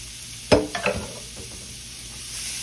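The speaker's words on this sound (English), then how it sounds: "now we're going to put our onions and celery in here. Going to sweat these down a little." Chopped onions and celery drop into a hot pot with a close, solid thud and a few quick clatters, then settle into a faint, low sizzle while they sweat for a smothered turkey dish.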